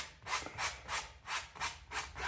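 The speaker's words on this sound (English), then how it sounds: "Scrape a lot of the excess off." A palette knife scrapes excess paint while mountains are being painted, giving soft rhythmic rasping strokes, about eight in quick succession, close and faint.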